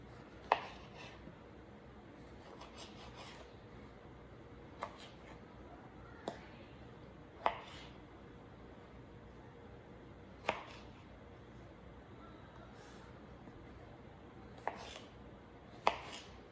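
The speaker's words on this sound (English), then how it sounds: "So the potatoes you're going to cut into rather big chunks." Knife chopping potatoes into big chunks on a board for steak and egg hash, with about nine sharp, separate chops spaced irregularly, against a quiet room background.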